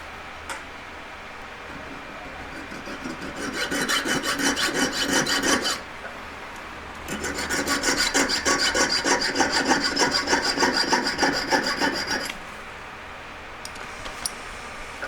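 Metal being sawn along the centre of a hand-made leaf ring, two sustained bursts of rasping cuts, close and fairly loud, separated by a brief pause.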